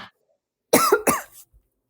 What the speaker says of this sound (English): I got a bit of a cough here.